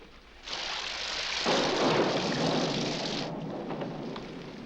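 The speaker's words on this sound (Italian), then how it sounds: "Questi tuoni mi fanno venire il mal di testa" Thunder and rain in a 1976 Italian murder-mystery film: a heavy, broad rumble of thunder swells and fades over the steady hiss of falling rain, loud and with no voices.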